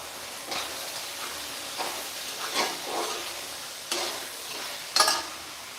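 Meat frying in a pan with masala for a black chicken curry, a soft steady sizzle with intermittent stirring scrapes and small clatters, faint and close, with no talk.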